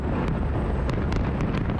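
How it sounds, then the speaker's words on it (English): Fireworks at the London Olympics closing ceremony rumble and crackle in a dense, continuous roar, with sharp bright pops scattered through the wash of noise. "A fireworks farewell after a dynamic closing ceremony with a who's who of musical acts."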